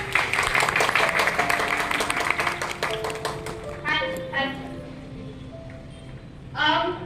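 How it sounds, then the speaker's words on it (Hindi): Audience applause at a retirement gathering, a burst of clapping that swells at the start and gradually thins out, with a second short burst near the end and background music tones underneath. "क्या आप सभी के लिए जोरदार तालियां हो सकती है?"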